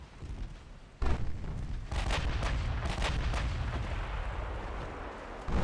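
Warship main guns firing in the naval video game Ultimate Admiral Dreadnoughts, a sudden deep blast followed by a volley of heavy booming shots rolling into sustained rumbling, loud and close, with no talk.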